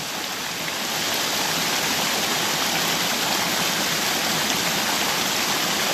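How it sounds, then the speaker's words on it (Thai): A waterfall pours down into a small stream, a steady, dense rushing roar that swells slightly at the start and then holds constant and close, with no voices. "ได้ยินเสียงน้ำตกก็เสียงน้ำตกที่ไหน"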